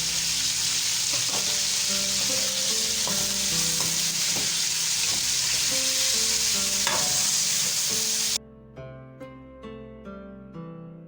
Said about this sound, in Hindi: चिकन हमारा फ्राई हो रहा है